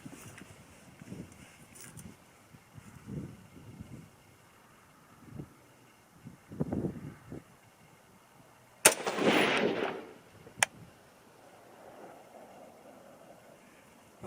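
Rifle shots from a PSA PA-15 in .223/5.56 fired at a target outdoors, heard as a loud sharp burst around the middle with a second crack soon after, over quieter scattered noises.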